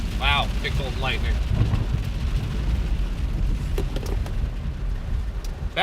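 Deep rolling thunder from a lightning storm in Texas rumbles heavily and continuously beneath rain noise, with a person's voice briefly heard talking near the start.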